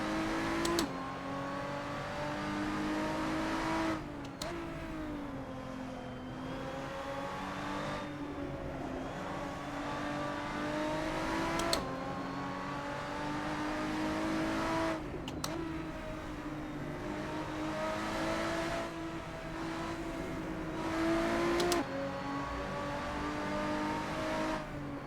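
Lotus 3-Eleven race car engine in Assetto Corsa at Mugello, a steady high-revving onboard drone that climbs through each gear and drops sharply at every shift, repeating throughout.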